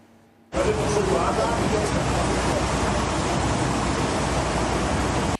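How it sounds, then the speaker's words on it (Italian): Floodwater surging through the streets of Asiago at night, a loud, steady, broadband rush that starts abruptly and continues without pause. "le strade invase da un fiume d'acqua la cui forza ha trascinato tavolini e sedie dei plateatici dei bar"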